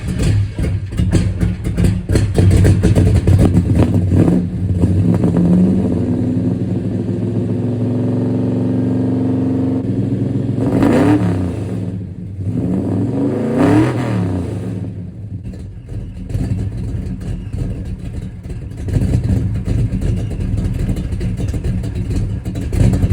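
A Ferrari 360 engine runs after a cold start from winter storage, loud and close, with a steady rough idle broken by several rising and falling revs before settling back.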